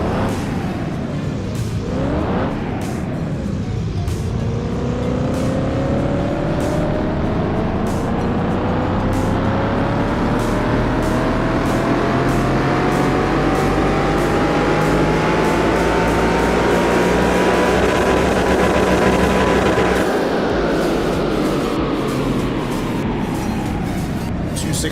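A car engine revving hard on a dyno in Car Mechanic Simulator 2021, loud and continuous, pitch climbing steadily through a long pull, then dropping as the throttle comes off, with a voice talking over it.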